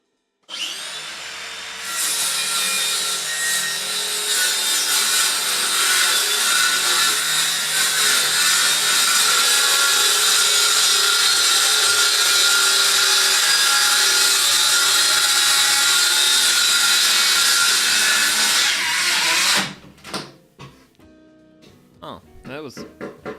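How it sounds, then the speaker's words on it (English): A power saw bites into wood for a washing machine riser with a loud, sustained whine and rasp for about seventeen seconds, then cuts off, leaving a few light clatters. "So, now time for more power tool noises."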